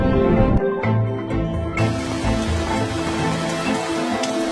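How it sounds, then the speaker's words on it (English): Heavy rain pours down in a steady, dense hiss of drops striking surfaces, loud and close, with a brief patch of lower, muffled sound at the start. "Looking at this watery deluge with specialist cameras reveals the surprising story of rain."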